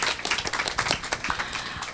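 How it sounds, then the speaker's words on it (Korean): Audience applauding at a Korean psychology talk on climate change, greeting a professor being introduced; dense, fairly loud clapping from many hands runs steadily through the whole stretch. "큰 박수로 부탁드립니다"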